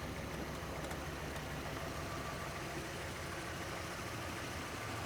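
An old Sunstar RV engine idles steadily with a constant low rumble and broadband hum, close and unbroken, with no talk over it.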